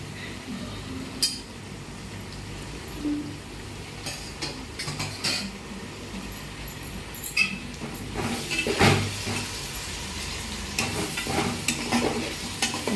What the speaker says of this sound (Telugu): ఇప్పుడు దాంట్లో మనం టమాటాలు ముక్కలు కోసుకున్నాం కదా, రెండు టమాటాలు ఇవి వేసేసుకున్నాం